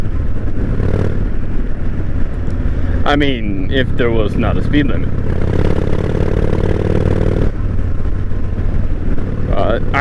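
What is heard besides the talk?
1998 Honda Shadow 1100 motorcycle riding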